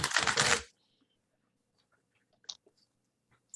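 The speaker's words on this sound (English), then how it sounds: "when a joker is dealt, you have to shuffle the deck" During a Savage Worlds tabletop game, a quick riffle of cards being shuffled, a brief rapid fluttering burst, followed by quiet with a few soft clicks and taps.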